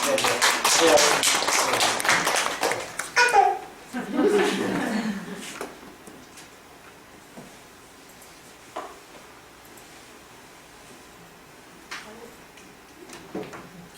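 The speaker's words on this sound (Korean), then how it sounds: "우리 선생님한테 박수 한번 내주시죠." An audience in a lecture room claps for the teacher, a dense burst of applause for about four seconds that quickly dies away, leaving a quiet room with scattered small taps and a voice speaking.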